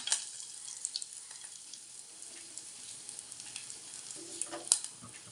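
Fenugreek seeds and curry leaves crackle and sizzle in hot oil for a Kerala pazham pulissery, a faint continuous hiss dotted with small pops, heard alone.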